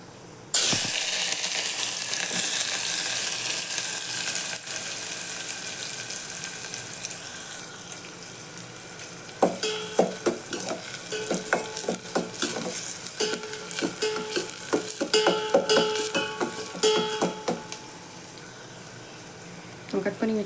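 Chopped onion hits a pan along with half a spoon of fenugreek seeds, giving a steady broad sizzle throughout, with a run of stirring clatter and scraping in the second half.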